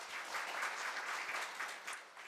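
Steady applause from an audience at a Korea University graduate school of labor studies evening gathering, a dense continuous clapping from many people, moderately distant, lasting the whole short stretch with no talk.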